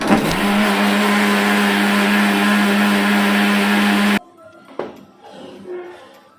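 A kitchen mixer grinds spice paste (vaatan) with water, a loud steady whirring hum for about four seconds before cutting off, followed by faint clatter and handling noises.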